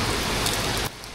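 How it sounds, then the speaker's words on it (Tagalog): Heavy rain in Laguna pours as a loud, dense hiss of drops close by, cutting to a quieter patter just before the end of the short burst. "Grabe ang lakas ng ulan dito sa ano,"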